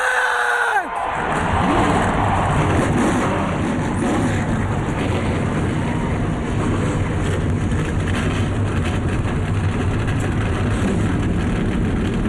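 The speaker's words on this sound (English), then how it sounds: "Gentlemen, start your engine!" A loud, sustained roar of many NASCAR race car engines firing up together at Dover, with a brief quieter moment at the start before the din fills everything.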